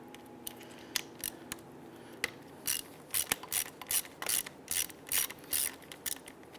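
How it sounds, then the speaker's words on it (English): A ratchet fitted with a 7mm socket loosens a bolt on a Ford Explorer, giving a series of sharp clicking bursts up close, quickening into a regular rhythm toward the end. "Using a 7mm socket, let's loosen and remove this here."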